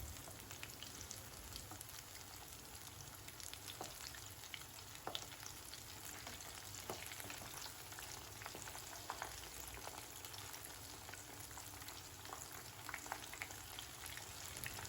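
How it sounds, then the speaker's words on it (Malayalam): Chicken 65 deep-frying on a high flame gives a steady, faint sizzling hiss with scattered tiny crackles and pops throughout, no voices. "2 സൈഡും നന്നായിട്ട് ഫ്രൈ ചെയ്ത് എടുക്കണം"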